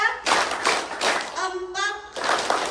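An outdoor Pentecost service congregation at GKJ Ngadirejo claps in short counted bursts, several quick group claps separated by brief pauses, with a voice speaking between the bursts.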